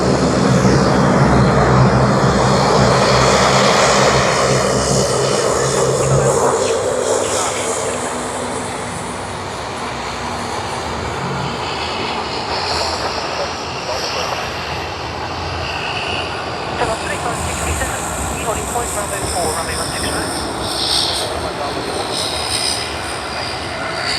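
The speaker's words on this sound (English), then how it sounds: "VA567 has completed its pushback. Should be just taxiing around" A Virgin Australia jet taxis at Sydney Airport after pushback, giving a continuous loud engine whine and rumble with shifting tones, while faint radio chatter runs underneath.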